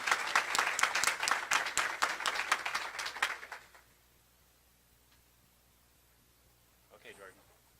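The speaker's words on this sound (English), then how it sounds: "If we could all give them another round of applause," An audience claps for teachers at a school district Teacher of the Year event: a few seconds of brisk, close applause that stops abruptly, then near silence with a brief murmur of voices near the end.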